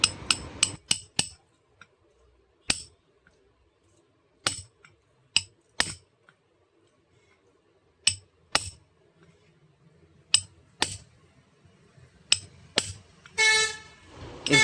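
Sharp metal-on-metal hammer strikes on a drift, knocking a tight bearing out of a gearbox during a KP-310 demolition hammer overhaul, in irregular single blows and quick bursts, near and loud with quiet gaps, and a brief rustle at the end.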